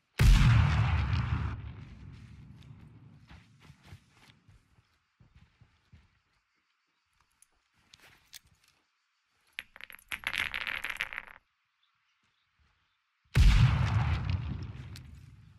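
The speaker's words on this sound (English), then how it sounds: "their teammate's throwing frags at him" Frag grenades explode in the tactical shooter Ground Branch during a PvP match: two loud, booming blasts with long rumbling decays, separated by scattered faint pops and crackles of distant gunfire.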